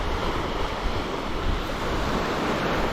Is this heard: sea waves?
yes